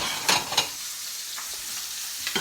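Pork tenderloin, cooked sous vide, sizzles steadily in a very hot pan with the heat just turned off, a loud continuous hiss broken by a couple of brief crackling bursts, close up and with no voices.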